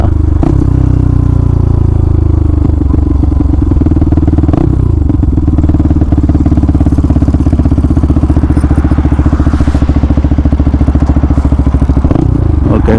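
An NS 200 motorcycle engine fitted with an Akrapovic exhaust runs loud and close, with a throaty, pulsing rumble, rising and falling revs, and occasional thumps.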